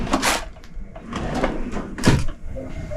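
Drawers in a cruise ship crew cabin slide and bump open and shut, several wooden knocks and scrapes in quick succession at close range.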